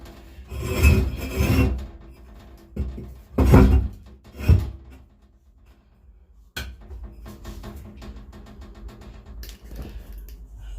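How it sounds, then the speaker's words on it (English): Paint is scraped off a large wooden reptile cage in several loud, close rasping strokes, bunched in short bursts over the first half, followed by quieter rubbing and a sharp knock. "Scraping some of the paint off"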